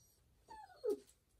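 A dog gives a short, high whine that slides downward, followed by a brief fainter whimper, close by in an otherwise quiet room while jumping on a person.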